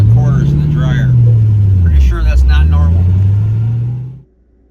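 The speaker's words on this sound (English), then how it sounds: "every time I push my clutch in, it sounds like a handful of quarters in the dryer" A 1950 Cadillac hearse with a rattling clutch drives along, its loud, close engine droning and rising and falling in pitch for about four seconds before cutting off abruptly.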